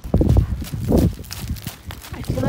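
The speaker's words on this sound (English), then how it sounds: "I feel like Amy Fleming from Heartland when I have the horses in the round pen." Horses move around a round pen, hooves thudding and clip-clopping in uneven bursts, close and fairly loud.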